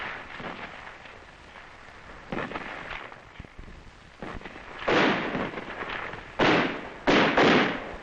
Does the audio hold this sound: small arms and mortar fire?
yes